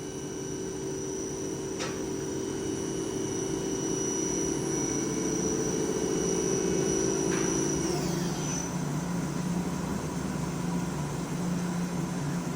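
A 2004 Daewoo DMV-3016 CNC vertical machining center spindle spins at 4,000 RPM, giving a steady close whine with a high tone that sweeps away near the end as it changes speed over a constant machine hum.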